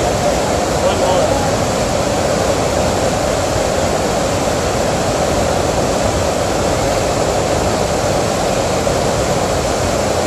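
Bailey's Creek flows in a steady, loud, full rush of water heard close up, unbroken for the whole stretch with no voices.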